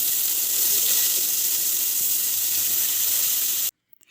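Lentil bori fry in hot oil with a steady, loud, broadband sizzle that runs unbroken and then cuts off abruptly near the end.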